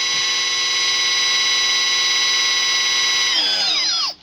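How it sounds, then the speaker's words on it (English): A Snap-on impact driver whines steadily as it primes the engine oil pump of a 292 Chevy inline six hot rod, a loud continuous high-pitched tool drone that winds down in falling pitch at the end. "got my fancy snap-on impact here"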